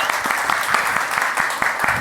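An audience at a live storytelling show claps in a dense, steady burst of applause, loud and close, with a faint murmur of voices underneath.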